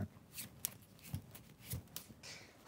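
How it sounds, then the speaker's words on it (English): A deck of playing cards is shuffled by hand nearby, giving several quick riffling bursts in an uneven rhythm, fairly quiet and with no talking. "Just shuffle it properly, okay?"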